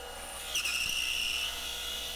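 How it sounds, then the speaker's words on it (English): A drill boring a 2-inch hole in wood, a steady high whine that rises and holds for about a second before easing off, close and fairly quiet. "So here I'm drilling a hole for the nut. It's a 2-inch hole."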